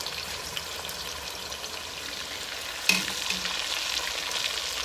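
Chicken pieces sizzle steadily in a pan while being browned for a Jamaican-style brown stew chicken, a soft continuous crackle with one brief clatter near the middle and no talking.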